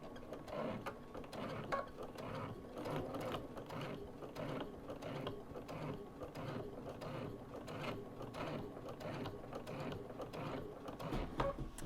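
Sewing machine slowly stitching in the ditch to bind a quilt, a quiet, close, steady mechanical chatter of needle strokes in an even rhythm throughout.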